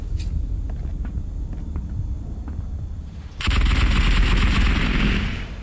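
Bursts of automatic gunfire crackle through Escape from Tarkov, scattered shots and footsteps at first, then a loud sustained volley of rapid fire takes over near the end.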